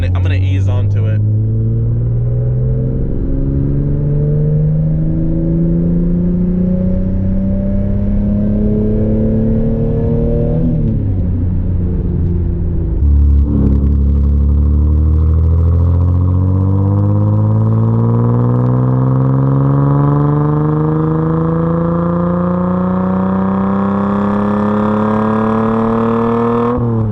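Toyota Supra with an HKS exhaust pulling through the gears, its engine note climbing steadily in long sweeps with a shift around the midpoint, loud and close from inside the car, with talk faintly beneath.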